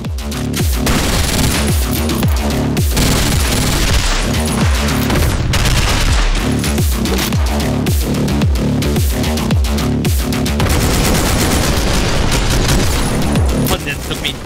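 AK rifle fire in the top-down shooter OTXO, a loud, fast, rhythmic stream of shots with heavy booming impacts running continuously over a driving backing track.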